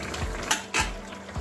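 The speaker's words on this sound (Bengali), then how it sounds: "ঢাকাটা খুলে নিচ্ছি।" A metal lid lifted off a cooking pan of prawn, brinjal and potato curry, giving a few short clanks and scrapes close by over a steady kitchen background.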